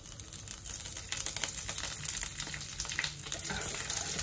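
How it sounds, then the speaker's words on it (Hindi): Curry leaves crackle and sizzle in hot oil with mustard seeds in a pan while making upma, a steady close frying hiss with dense popping throughout. "अब इसमें डाल देंगे थोड़ा सा कड़ी पत्ता।"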